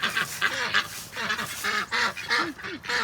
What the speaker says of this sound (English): This one was actually a house duck for quite a while, but she's adjusted great to the outdoors.